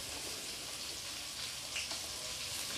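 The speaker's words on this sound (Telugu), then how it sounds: "ఆనియన్స్ వేసిన తర్వాత ఆనియన్స్ బాగా ఫ్రై అవ్వాలి బాగా బ్రౌన్ కలర్" Onions frying in a pan, a soft steady sizzle with faint crackles and light pan noise throughout, no voices.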